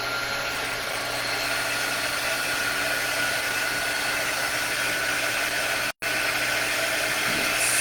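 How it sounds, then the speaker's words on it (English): A handheld craft drying tool blows a steady, loud rush of air over a painted door hanger, the hiss holding constant apart from one brief cutout near the end. "So let me dry this with my drying tool."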